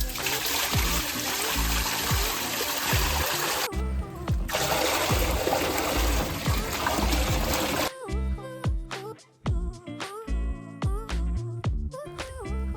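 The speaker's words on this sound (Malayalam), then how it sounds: "അപ്പോൾ നമുക്കിനി ഈ വെള്ളം അങ്ങ് നമ്മുടെ ടാങ്കിലോട്ട് അങ്ങ് ഒഴിച്ചു കൊടുക്കാവേ" Water is poured into a tank for baby betta fish, a dense rushing splash lasting several seconds with a short break midway, then stopping as music takes over.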